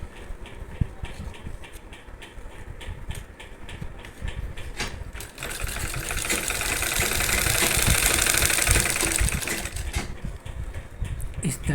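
A sewing machine stitches stretched elastic onto fabric, its motor humming unevenly at first and then swelling into a louder, denser mechanical drone midway before easing off.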